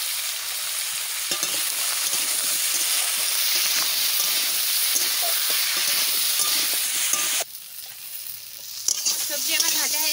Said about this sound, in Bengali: সবজি আমার ভাজা হয়ে গেছে, আলু আর পাতাটা ভাজা ভাজা হয়ে গেছে